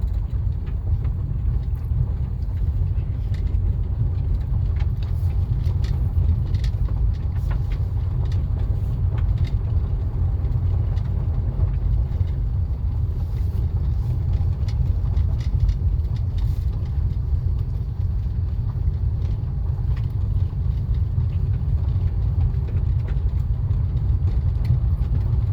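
A car driving along a country road through fall foliage near Mendota, Virginia: a steady low engine and road-noise rumble heard from inside, continuous and unchanging, with faint occasional ticks and no talk.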